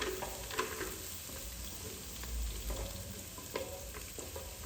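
Onions and green chillies frying in oil inside a cooker give a soft, steady sizzle, with a few faint clinks from stirring.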